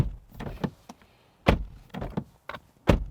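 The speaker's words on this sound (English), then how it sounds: "Door slam test." A run of solid car door slams on a 2023 Mazda CX-8 seven-seat SUV, several heavy thuds spaced a second or so apart, close by with quiet pauses between.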